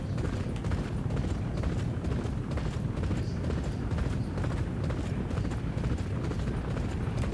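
Dense, continuous hoofbeats of racehorses galloping in a Grade 3 race in the horse racing game Champion Jockey, a steady rumbling clatter filling the whole stretch with no voices.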